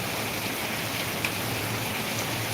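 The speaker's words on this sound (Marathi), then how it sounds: "इतका पाऊस आहे ना" Rain falls in an even, soft hiss with faint scattered drops, distant and quiet throughout, with no voices.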